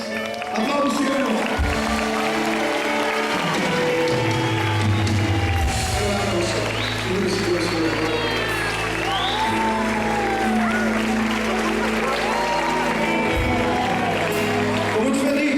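Congregation applauding at a church patron saints' festival, with steady clapping mixed under loud music with singing and a strong bass line throughout.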